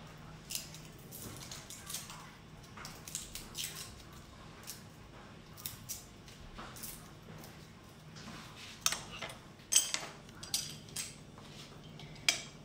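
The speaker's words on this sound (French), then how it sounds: "je vais presser en fait l'ail, toutes les gousses d'ail" Garlic cloves crushed in a garlic press, quiet close squeezing crunches and small metallic clicks repeated irregularly, louder toward the end, with no talking.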